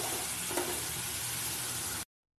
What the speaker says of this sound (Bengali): পেঁয়াজ রসুন বাটা যে ছিল সেটা দিয়ে দিলাম, দিয়ে তেলের মধ্যে নাড়তে থাকবো